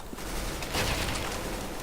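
Gunfire in Counter-Strike: Global Offensive, a dense burst of rapid shots with a noisy, crackling wash lasting under two seconds, loud and close with no talk.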